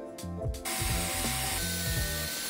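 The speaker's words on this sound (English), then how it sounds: "So now I'm cutting a scrap piece of plywood" A power saw cuts through a scrap piece of plywood with a loud, steady grinding whine, its pitch dipping and rising in repeated waves as the blade bites, with no talking.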